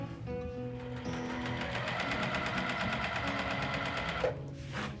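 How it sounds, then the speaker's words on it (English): A sewing machine runs steadily and close by as it stitches two quilt pinwheel block pieces together, a rapid even needle chatter that stops near the end with a couple of soft handling sounds. "I'm gonna sew these 2 pieces together here."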